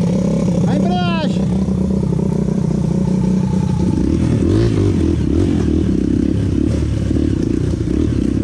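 An XR230 trail motorcycle engine revs loudly at night on a dirt trail, its pitch sweeping up and down in repeated bursts, with people talking close by over the engine noise.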